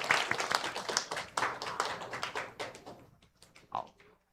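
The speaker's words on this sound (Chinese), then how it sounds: "掌声鼓励" Church congregation clapping at a Sunday service, a burst of hand claps that thins out and fades within about three seconds, with a few last scattered claps.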